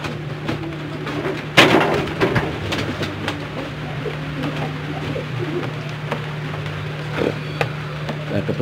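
A newly matched pair of domestic pigeons cooing softly in a breeding loft, low repeated coos under faint rustling and a sharp knock partway through.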